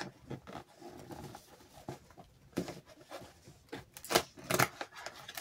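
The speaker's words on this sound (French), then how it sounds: "avec la paire de ciseaux ça va tout de suite beaucoup mieux" Scissors cut open the packaging of an advent calendar in short snipping bursts, close and fairly quiet, with several sharper cuts near the end and no talk.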